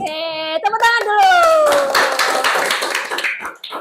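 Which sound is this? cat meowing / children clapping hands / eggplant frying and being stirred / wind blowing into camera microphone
children clapping hands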